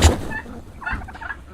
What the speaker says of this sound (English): You'll hear of course, the gobble that only the males make.